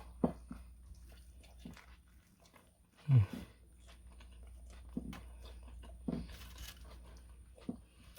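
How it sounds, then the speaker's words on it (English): Bites and chewing on a cheeseburger sub with caramelized, crunchy burger, cheese and vegetables on a soft roll; a few soft crunchy chews spread out with one louder bite near the middle, close and quiet, with no talking. "Let's go in for one more bite."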